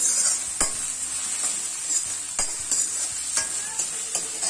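Onions fry in a pan with a constant bright sizzle, broken by regular sharp scrapes and taps of a spatula as they are stirred, close and with no talking.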